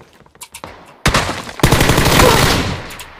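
Gunfire in the PUBG battle royale video game: a loud, dense burst of rapid automatic shots starting about a second in and running continuously to the end, preceded by a few quieter pops.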